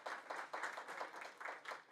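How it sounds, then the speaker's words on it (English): A banquet audience at the 2022 PAISD annual retirement banquet gives a round of applause, a fairly faint, steady patter of many hands clapping with soft rhythmic surges and no voices over it. "Let's give Ms. Bradford another round of applause."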